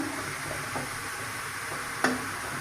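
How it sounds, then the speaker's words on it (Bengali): Telakucha greens frying slowly over low heat, giving a soft, even, continuous sizzle close by, with one faint clink of a utensil partway through and no talking. "এইভাবে শাকটা কম জালের মধ্যে এভাবে আস্তে আস্তে ভেজে নিতে হবে।"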